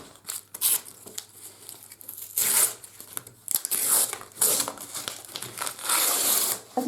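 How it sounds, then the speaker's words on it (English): Gummed brown paper tape is peeled off a dried watercolor board, giving close, loud bursts of crackling, ripping paper noise in irregular pulls separated by short quiet gaps, no talking. "So what we do with the rest of this now is just peel off"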